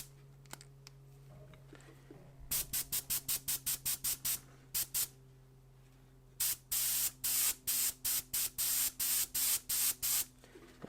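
An airbrush sprays paint in short repeated hissing bursts on a model car, first a quick series of spurts, then a pause, then longer evenly spaced sprays, close up with a faint compressor hum beneath.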